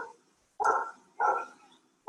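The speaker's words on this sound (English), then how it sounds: "there are lots of barking dogs" Three separate barks from a dog somewhere in the background, spaced roughly half a second apart, each a short clear bow-wow, with silence between them and no speech.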